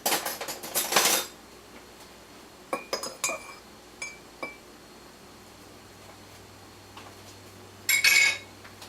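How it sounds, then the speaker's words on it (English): Small spoon clinking against a cup while coffee brewed with a Hario dripper is stirred, a few quick metallic chinks in short clusters with quiet gaps between them. "Let's get myself a little spoon, give it a nice little stir."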